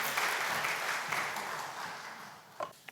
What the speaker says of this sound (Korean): 나오실 때 여러분 큰 박수로 맞아주시기 바랍니다